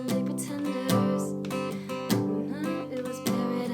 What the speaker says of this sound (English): So you kind of get like a muted sound when you're strumming